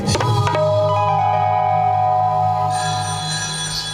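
A telephone rings after a number is dialed, a loud, clear, sustained electronic ring heard close up with no talking.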